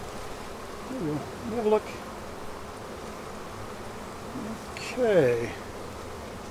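Honeybees buzz steadily around an opened beehive during a hive inspection, with a low, constant hum under quiet talk from a nearby person.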